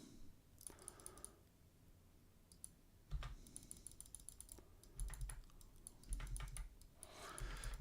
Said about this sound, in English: Clicking away like a frantic man